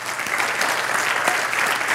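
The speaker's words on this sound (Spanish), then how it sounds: "¿Le puedes dar un aplauso al Señor?" A church congregation applauds at the close of a Spanish-language sermon. The crowd claps loudly and densely without a break, and a few scattered voices are heard in the room.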